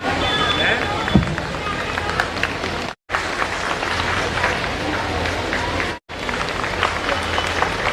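A crowd at a school's annual celebration bursts into sustained, dense applause, many hands clapping loudly and evenly, broken by two abrupt short gaps before the clapping resumes at the same strength.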